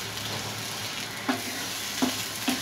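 Corn kernels being slowly stir-fried and roasted in a pan for corn bhurji, a steady close sizzle with a few sharp scraping clicks from stirring.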